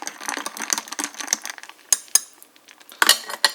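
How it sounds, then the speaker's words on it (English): A metal spoon clinks and scrapes against a glass while stirring iced Turtles hot chocolate, giving a close, irregular run of light taps with a few sharper rings near the end. "you stir it with a spoon to make sure it's fully ready"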